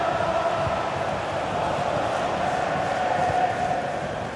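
A stadium crowd in the FC 24 game on PS5, Liverpool vs Wolves in the FA Cup Final, keeps up a steady, dense roar and murmur of cheering throughout, with no distinct peaks.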